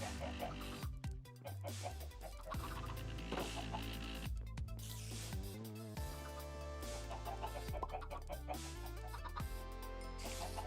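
Many chickens cluck in Minecraft, short clucking calls scattered over a steady musical game backdrop that runs throughout.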